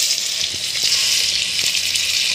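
Pork frying in hot oil with garlic and onion gives a loud, steady sizzle that runs unbroken throughout, with a few soft knocks of stirring underneath and no talking.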